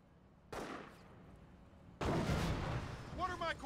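An artillery barrage in the Company of Heroes strategy game lands as two heavy, booming blasts, the second louder and rumbling on, with a short voice near the end.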